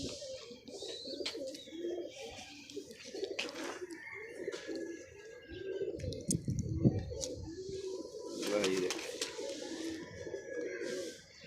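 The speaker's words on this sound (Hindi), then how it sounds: "ਤੁਹਾਡੇ ਬਹੁਤ ਅੱਛੇ ਕਬੂतर ਨੇ ਨਾਸਰ" Pigeons coo softly and repeatedly at close range, with low rolling calls among chirps and scattered rustling; no speech is audible.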